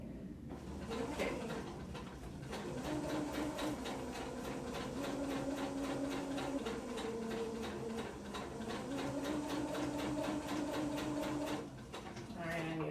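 A sewing machine runs steadily through a seam four layers of fabric thick, producing a fast even mechanical chatter that holds for most of the stretch with a brief slowdown near the end.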